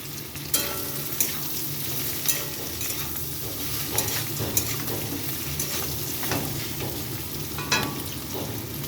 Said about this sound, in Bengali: এখানে আদা আর লঙ্কাটা ভাজা হয়ে গেছে, তো এখানে আমি সব ভাজাগুলো দিয়ে দিচ্ছি